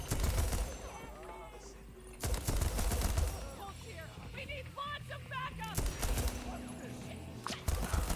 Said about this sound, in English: So this is where I let them come to me and just shoot them as they come up